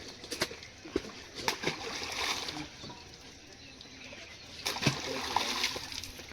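Fish are poured from a container into a village pond, and water splashes and sloshes in irregular bursts close by. Faint birds and background activity sound outdoors.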